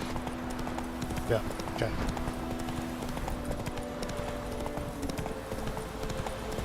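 The horse Roach gallops in the video game The Witcher 3, giving a steady clip-clop of hooves under a continuous game soundscape while someone speaks briefly.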